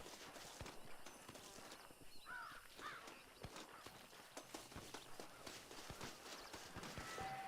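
Steady clip-clop of several horses' hooves walking on a hard surface in the video game Red Dead, with a busy ambient background and an occasional bird call.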